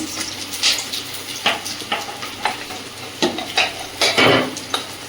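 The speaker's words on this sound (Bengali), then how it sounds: "আলুগুলো ভেজে তুলে নিয়েছি, মাংসটা চাপিয়ে দেবো কড়াই। গোটা গরম মশলা দিয়ে দেবো, গোটা জিরে" A whole chicken frying in a wok with whole garam masala spices and cumin sizzles steadily while a spoon stirs it in regular scraping strokes, loud and close with no talk.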